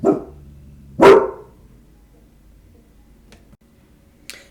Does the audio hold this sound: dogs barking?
yes